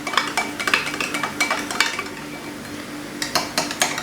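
A spoon stirs curd with condensed milk in a bowl, making quick rhythmic scraping and clinking strokes against the bowl in bursts with a short pause partway through, close and clear with no speech.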